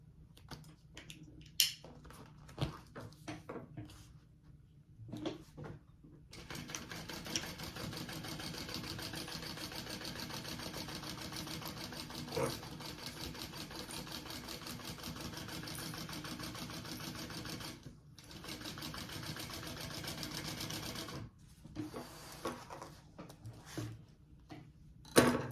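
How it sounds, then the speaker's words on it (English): Sewing machine top stitching a bag seam, a steady fast mechanical whir running for about twelve seconds between shorter bursts and handling noises, quiet and close. "Now I'm gonna take that and sew that with my seam allowance, flip it up and top stitch."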